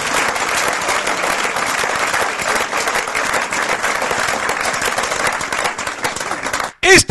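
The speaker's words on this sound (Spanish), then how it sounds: "Démosle un gran aplauso a Jesucristo" A church congregation gives a big round of applause, a steady wash of many hands clapping that holds strongly before cutting off abruptly near the end, with a few voices under it.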